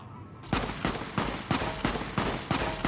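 Rapid gunfire from a weapon in the post-apocalyptic Fallout New Vegas video game, a regular series of about eight sharp loud shots fired roughly every third of a second, heard up close with no talking.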